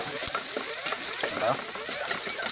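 Vegetables for Filipino inabraw with bagoong sauté in a hot pan, a close, continuous sizzle and crackle broken by the scrape and clatter of stirring.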